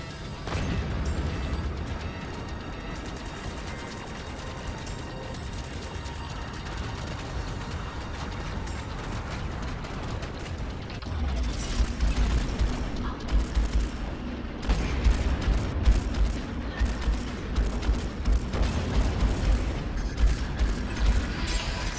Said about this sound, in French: Il y a trop d'explosions de partout, c'est horrible!